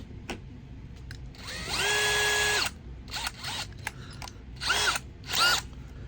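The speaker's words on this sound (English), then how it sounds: "I'm going to drill down through like so, all the way through" Power drill boring through a model railway baseboard for a turnout, a long whining run followed by several shorter bursts of the motor, close and fairly loud with faint mechanical handling between.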